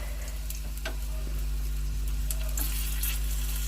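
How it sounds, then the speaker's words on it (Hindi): Garlic cloves fry in oil for a garlicky methi tadka, a steady close sizzle with occasional stirring clicks over a constant low hum. "देखिए एक एक लहसुन की कलियों को अच्छी तरह से इसे फ्राई होने देते हैं।"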